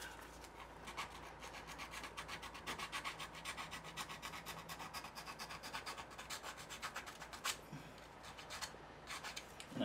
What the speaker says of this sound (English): And I'm sanding this inward